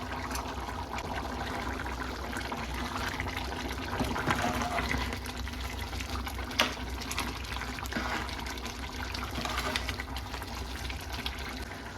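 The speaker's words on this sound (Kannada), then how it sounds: "ಇವಾಗ ಚೆನ್ನಾಗಿ ಅಕ್ಕಿ ಕೂಡ ಕುದಿತಾ ಇದೆ" Rice boils in a pot of water for egg biryani, a steady bubbling and gurgling wash close by, with a few small clinks over the continuous roil.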